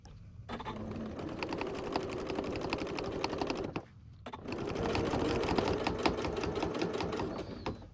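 A sewing machine stitches quilted fabric for an envelope pillow, running in two steady, rapid bursts close by, with a short pause between them.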